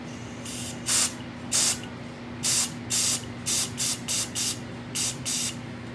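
Air being purged from the top valve of a refillable single-use propane bottle, heard as about a dozen short, sharp hissing bursts in an uneven rhythm, close and loud over a steady low hum.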